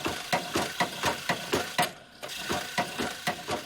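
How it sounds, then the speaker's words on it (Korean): A craftsman's shaping machine pounds a baseball glove over and over, like a hammer. The steady, fast, close knocking runs at about four blows a second, with a brief break midway and no talking. "쉐이핑 기계를 이용해 글러브의 곳곳을 망치로 두드리듯 두드려주는 명인"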